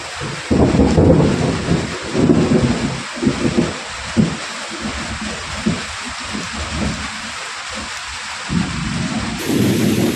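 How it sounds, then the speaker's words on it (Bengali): Heavy rain pours steadily, loud and close, with low rumbling like distant thunder rolling underneath. "বাইরে প্রচন্ড বৃষ্টি আছে"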